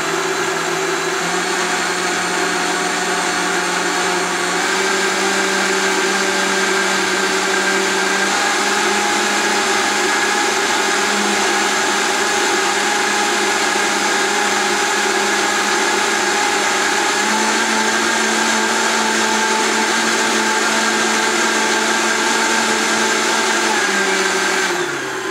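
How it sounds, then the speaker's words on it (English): A kitchen blender purees lentil soup in one long, loud, steady whir, its motor pitch holding nearly constant with slight shifts partway through, running alone without any talking. "If your blender has a puree function,"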